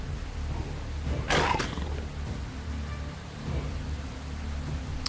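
Heavy rain pours steadily in a video game, a dense constant hiss with a brief loud rumbling burst like thunder near the start, no talk over it.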